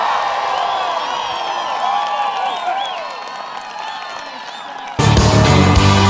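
A large outdoor campaign rally crowd cheers, whistles and applauds steadily for several seconds, dense and sustained, before a close voice begins speaking over the noise.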